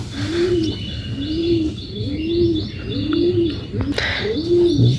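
Domestic pigeons coo in a loft, a run of soft repeated rolling calls in a steady rhythm, with faint chirps and light rustling behind them and no speech.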